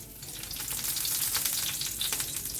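Curry leaves sizzle in hot coconut oil in a pan before fish is fried, making a steady, crackling hiss with small pops throughout, and no voices.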